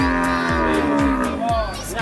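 A Limousin cow moos loudly and close at the Pon cattle market in Jaken, Pati, one long drawn-out low call with a steady beat of dull thumps beneath it.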